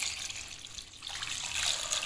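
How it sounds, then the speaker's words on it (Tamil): Water pours steadily over green peas and potatoes for a kurma, a continuous splashing hiss heard alone and fairly quiet. "பட்டாணியும் உருளைக்கிழங்கும் முழுகிற அளவுக்கு தண்ணி ஊற்றிடலாம்"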